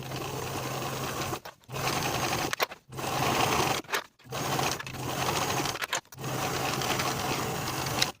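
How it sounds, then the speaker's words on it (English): Sewing machine stitching the princess seams of an unlined jacket, running in steady bursts of about a second or more with short pauses between them, close and loud. "Sew these seams with a 5/8 inch seam allowance"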